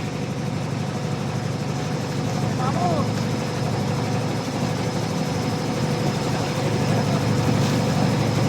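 A motorboat engine drones steadily as the boat travels across Rangamati lake between two hills, a continuous low rumble close by with a voice talking over it.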